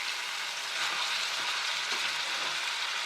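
Potato bhujia frying in an open pan with no lid, giving a steady close hiss and crackle of oil that holds evenly throughout with no voices.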